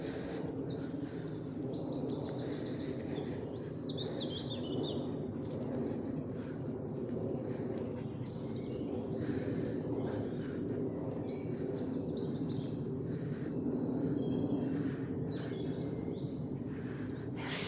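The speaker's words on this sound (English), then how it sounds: "Oh, let's have a listen to these birds." Birds sing in a park with a dense, continuous chorus of chirps and trills, moderately loud, layered over a steady low outdoor rumble, and no talking.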